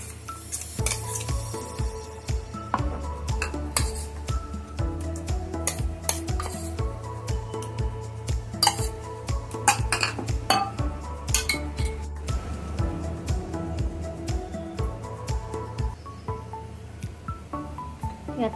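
Mung dal vada mixture is mixed in a metal vessel, with repeated clinks and scrapes of a spoon against the pot over a low background hum, continuing steadily throughout.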